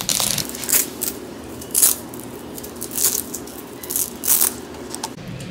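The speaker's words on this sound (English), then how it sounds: "So let me unwrap" Unwrapping the strap of a Gucci 1955 Horsebit shoulder bag made in Italy: a run of crinkly paper or plastic rustles in several bursts over a steady low hum, close and moderately loud, without talk.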